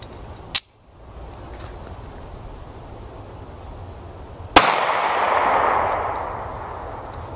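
A Springfield 911 pistol in .380 ACP fires at an outdoor range. There is a sharp short crack near the start and then one loud single shot a few seconds later, which leaves a lingering rumbling echo.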